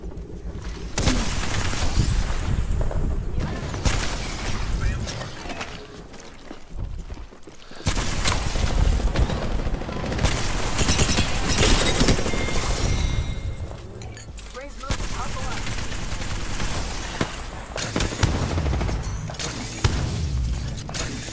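Gunfire and explosions in the video game Apex Legends, with dense bursts of shots and booms cut by brief lulls over about twenty seconds, mixed with a voice calling out.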